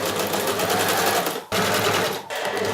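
A sewing machine runs steadily, stitching a padded laptop bag of wadding, fabric and lining, loud and close, with two brief pauses in the whirring.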